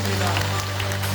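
A church congregation claps together during a Korean prayer-meeting worship service, with a dense, steady patter of hands over a sustained low musical tone, all packed into a brief moment.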